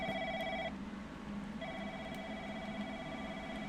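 A telephone rings inside an office in a video game, two electronic trilling bursts separated by a short pause over a steady low background hum.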